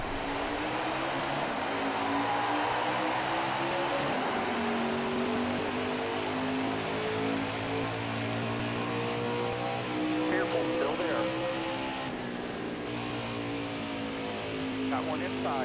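Race car engines in the NASCAR Heat 5 video game roll out onto the Phoenix track, a steady droning multi-car engine hum with shifting pitch, continuous and moderately loud throughout.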